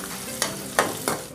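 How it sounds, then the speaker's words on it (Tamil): Ginger and onion frying in a pan, a steady close sizzle with three short bursts of louder crackle and stirring scrapes spaced through it, no voices. "இஞ்சி, வெங்காயம் எல்லாம் நல்லா பொரிஞ்சு வரட்டும்."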